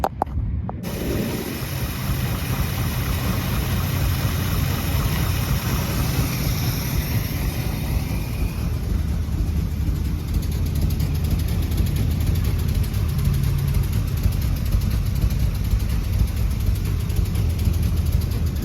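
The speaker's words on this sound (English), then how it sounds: "Got it up and running, just put some gas in there. Nothing too major. Yeah, I mean, it's idling on its own." The engine of a Chevrolet El Camino runs and idles steadily with a low, continuous rumble, heard alone and fairly close throughout.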